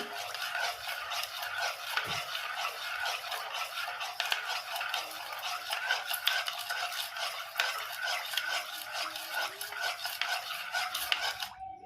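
Spoon stirring yeast and salt into flour in a steel bowl for no-oven bread, a steady close scraping and clinking that runs alone with no talk.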